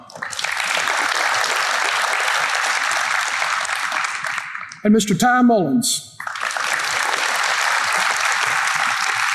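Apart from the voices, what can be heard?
applause for award honorees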